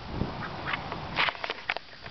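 A duck quacks several times close by, short nasal calls in an irregular rhythm.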